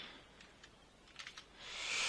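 Soft keystrokes on a Trust ClassicLine keyboard with squidgy, cushioned keys, a few quiet scattered presses close by, without speech, under a steady hiss that swells toward the end.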